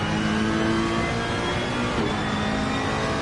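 A race car in Assetto Corsa Competizione at Brands Hatch, a loud continuous engine drone with a shift in pitch partway through as it brakes and drops gears, filling the whole stretch without pause.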